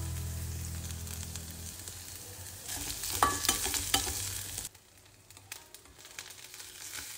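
Cumin and onion fry in a pan for paneer bhurji with a steady sizzle, then stirring scrapes and clatters; the sizzle drops quieter toward the end.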